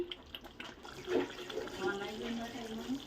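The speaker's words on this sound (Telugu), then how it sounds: "కొంచెం కొత్తిమీర అయితే కడిగేసి వేసుకుందాం" Fresh coriander is rinsed under running tap water in a home kitchen, giving a steady close splashing flow with soft bursts of spray and some low background noise.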